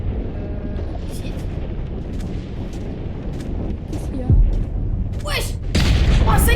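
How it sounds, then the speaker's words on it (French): A planet explodes in Minecraft, a dense continuous rumble of low booms building in intensity, with heavy blasts near the end, while excited voices shout over it. "La planète, elle est en train d'exploser!"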